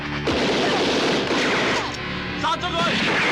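Gunfire erupts in a Hong Kong action film scene, dense bursts of shots and crashing impacts layered over shouting voices and loud, chaotic background noise.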